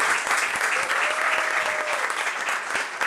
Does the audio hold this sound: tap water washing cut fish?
no